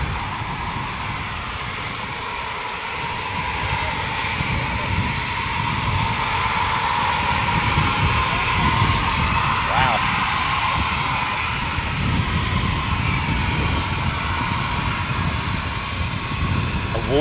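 RAF Typhoon jets of No. 3 Squadron returning to RAF Coningsby make a sustained distant jet roar with a broad rushing hiss that swells slightly midway, and faint voices talk under it.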